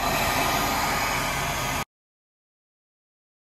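A hair dryer used to cold-start a diesel truck blows a steady, loud whooshing hiss, then cuts off abruptly into silence.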